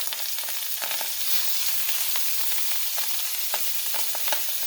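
A pork roast sizzles in a cast iron pot, a dense continuous crackle and spatter with fast irregular pops, close and alone without voices.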